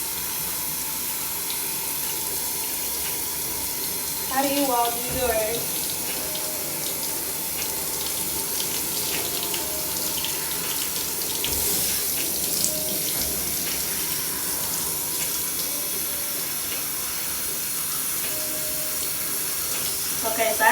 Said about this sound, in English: I like using the detachable shower head because I can get really close